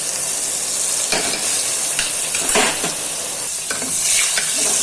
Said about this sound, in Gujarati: અને લીમડો આપણે નખાઈ જાય બધું સતડાઈ જાય